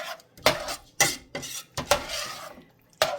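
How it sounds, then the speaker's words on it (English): Cheese being stirred into a hot white sauce for macaroni and cheese, with a utensil scraping and knocking against the pot in irregular strokes, close and fairly loud, with quiet gaps between. "I just want to stir that just until it's melted"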